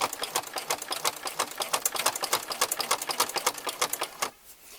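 A sewing machine stitches along a fabric edge for a crib comforter, its rapid, even needle strokes running fast and close before stopping abruptly near the end.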